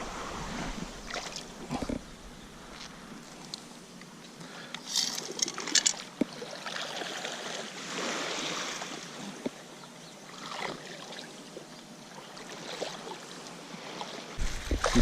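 Shallow ocean surf off Aruba washes and churns in a continuous hiss, with surging swells rising and falling around a wader and no talking.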